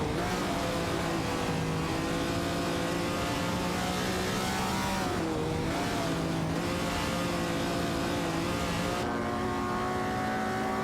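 A Shelby and a Ferrari 250 GTO race in a racing video game, their engines droning steadily with rising and falling tonal whines as they rev and shift, continuous and fairly close.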